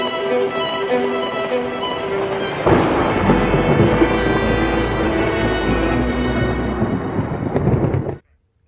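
Thunderstorm with heavy rain and strong wind in Jharkhand: a loud rolling thunder crash breaks in over a steady rain hiss and rumbles on for several seconds before cutting off abruptly.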